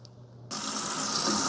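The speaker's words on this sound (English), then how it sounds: "So if you are going to use some water, make sure it's hot water first." Hot water from a kitchen tap starts suddenly and pours steadily into a sink while a cast iron skillet is being cleaned, a close, even rushing that continues to the end.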